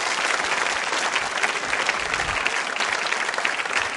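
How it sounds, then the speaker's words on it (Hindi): Close, dense applause from a school audience at a quiz show, steady and loud for the full few seconds with no talking over it. "इस जानकारी के लिए तालियां बजा सकते हैं आप।"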